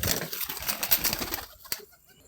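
Pet pigeons settling in a dark loft at night give soft coos and brief wing flutters, fairly close and moderately loud, then fade toward near quiet with one short sharp sound.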